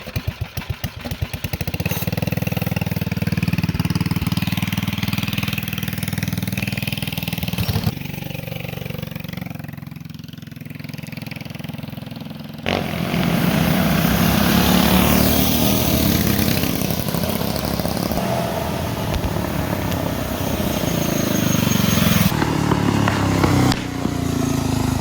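A custom mini bike with a Motovox frame and a Predator 212 engine runs nearby, a loud, steady, buzzing single-cylinder drone that dips briefly to a softer idle before revving back up, with no one talking.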